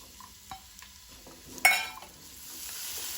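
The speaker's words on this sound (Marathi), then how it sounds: "कांदो आमकां मातसो तळसून घेवपाक जाय" Chopped onion frying in a couple of spoons of hot oil in a pan over medium flame, a low steady sizzle with a few soft scrapes and one sharp clatter partway through.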